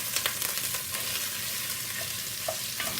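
Ingredients for cornbread dressing browning in a pan, a steady close sizzle and crackle with occasional stirring scrapes, continuous and without voices.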